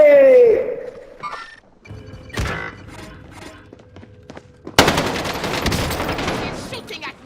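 Video game gunfire rings out from an enemy shooter, with scattered shots early on, then a sustained burst of rapid automatic fire near the end, mixed with game sounds.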